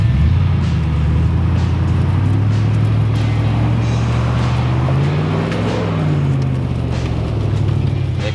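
A V8 Range Rover works its way over an obstacle on a rough 4WD track, its engine a steady, loud, low drone that rises and falls slightly as it climbs, with no pause.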